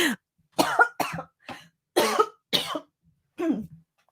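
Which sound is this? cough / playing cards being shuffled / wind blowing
cough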